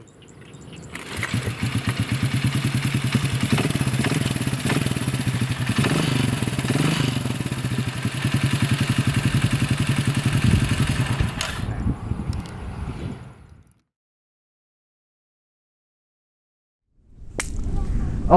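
A Honda CT200 Trail motorcycle with an automatic clutch runs close by with a steady, loud, thrumming engine note for about twelve seconds, then cuts out into silence before briefly sounding again at the end.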